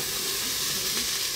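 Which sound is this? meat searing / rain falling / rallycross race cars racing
meat searing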